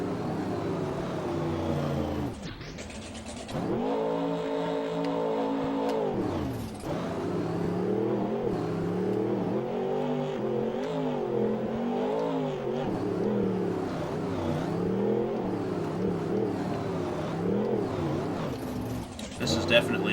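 A custom off-road trophy truck engine in the Rigs of Rods driving game drones and revs steadily, pitch rising and falling through gear changes under continuous talking.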